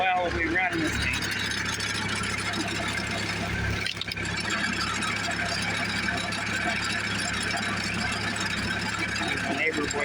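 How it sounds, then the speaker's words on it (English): Dexta tractor engine driving a home-made corkscrew wood splitter through the PTO at half throttle, a steady loud mechanical drone throughout with a brief dip midway and faint squealing overtones. "We're just using the Dexta here, and as you can hear, the tractor doesn't work down at all."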